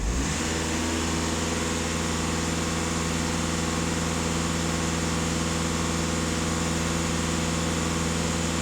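Skoda Octavia A7 engine running under diesel particulate filter checks, a steady loud idle with strong harmonic drone that holds unchanged throughout, no clear rev rise evident, no talking.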